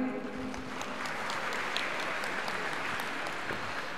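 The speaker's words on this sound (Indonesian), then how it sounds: "Mari kita beri tepuk tangan yang meriah" Seminar attendees at a national teacher-education event clap together in a steady, dense round of applause that stays level and continuous from start to finish.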